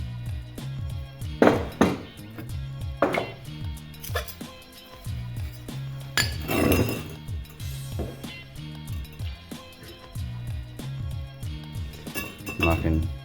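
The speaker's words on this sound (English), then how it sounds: "Hit with hammer." A hammer strikes a metal tube in sharp, ringing blows, a few spaced hits and some lighter taps, with a person talking in between, while modifying a Toyota Caldina ST215.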